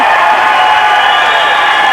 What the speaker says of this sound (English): Hear the noise from this crowd in Sheffield